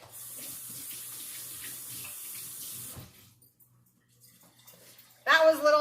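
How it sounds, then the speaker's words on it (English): Hands are washed under a running kitchen tap, a steady near stream of water that stops briefly partway through before a louder gush resumes at the end; no talk over it. "now I gotta wash my hands."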